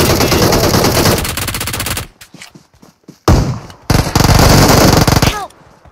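Gunfire rattles in the mobile battle royale game PUBG Mobile, with loud rapid automatic bursts, a lull of scattered shots, then renewed heavy fire that includes shotgun blasts.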